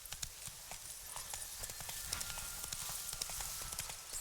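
Hooves of Geralt's horse Roach in Witcher 3 clip-clop in a steady, fairly quick rhythm, close and moderately loud over a soft ambient background, with no voices.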